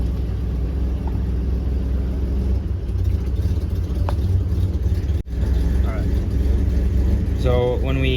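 A car engine idles at about 800 RPM during an EGR lab test, a steady low rumble running throughout while people talk over it.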